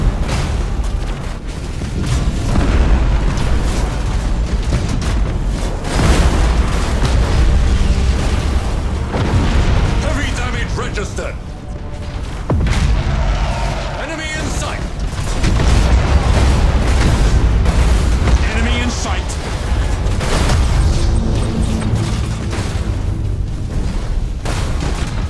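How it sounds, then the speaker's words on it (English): Thunderhawk bombardment in the space strategy game Battlefleet Gothic Armada 2, a dense, loud barrage of booming explosions rolling continuously with brief dips, mixed with game effects and no voices. "Initiate Thunderhawk bombardment."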